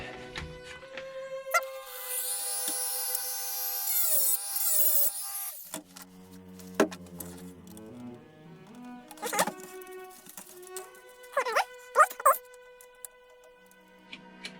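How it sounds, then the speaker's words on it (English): Screws being undone on the body of a vintage Tamiya 1/12 Porsche 934 Vaillant RC car, with close squeaks, scrapes and small clicks in scattered bursts, including a longer high rubbing stretch near the start. "I have to lift the piece while I undo the screw"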